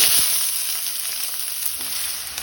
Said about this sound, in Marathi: तेल तापले तशें तातून हांव कांदो घालता